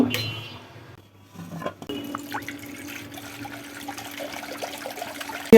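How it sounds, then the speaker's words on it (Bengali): Water running and splashing into a cooking pot, set on to boil for morning tea in a home kitchen, with a soft clatter of the pot and a steady pouring stream under faint room noise. "তাই আমি একটু পানি বসাইলাম চা বানানোর জন্য"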